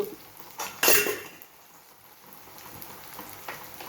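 A metal spoon scrapes and clinks in a pan as brinjal fry with ginger-garlic paste, chili powder and spices is stirred, with one sharp clatter followed by soft scraping and a low sizzle.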